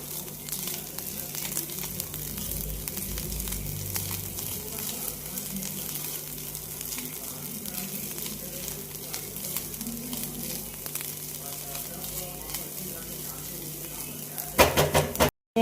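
Continuous close sizzle of vegetables frying in a pan with pizza masala, a spoon stirring and scraping through them steadily, with occasional knocks against the pan and a brief louder clatter near the end.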